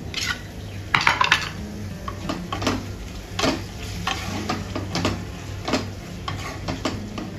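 Tomatoes go into sizzling onions tempered with mustard seeds and curry leaves in a pan. A spatula scrapes and clatters against the metal in repeated strokes over a steady frying hiss.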